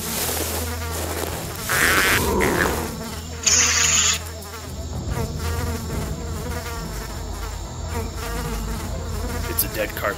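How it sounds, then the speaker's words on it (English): Flies buzzing around a dead carcass in a jungle video game, a close, continuous droning hum that swells in a few louder passes, with no voices. "Oh, these bugs are all over."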